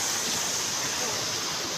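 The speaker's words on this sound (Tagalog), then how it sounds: "Ito galing yung tubig, ang linaw. Doon, galing sa bundok." Clear mountain water flowing at an inland resort in Canlaon City, Negros Oriental, makes a steady, loud rushing wash, continuous and close, with no break in the flow.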